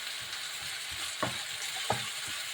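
Onion, garlic and tomato sautéing in a pan, a soft steady sizzle with a few quick stirring scrapes and taps, close and fairly quiet.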